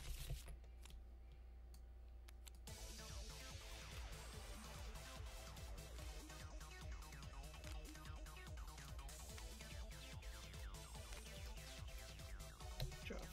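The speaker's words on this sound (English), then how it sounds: "Alright, shuffle." Trading cards from a Digimon card game deck being shuffled by hand, a dense run of soft rapid flicks and riffles that stays at an even level throughout, with a brief quieter pause at the start.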